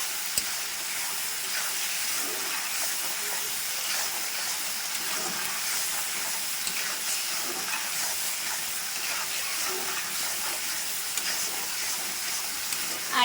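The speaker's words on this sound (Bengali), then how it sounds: "ভালো করে মশলাটা আমি ভেজে নেবো" Spices with turmeric fry in a pan for a Bengali khichuri, giving a steady, even sizzling hiss that runs the whole time with no talk over it.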